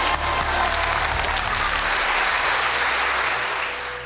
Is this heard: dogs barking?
no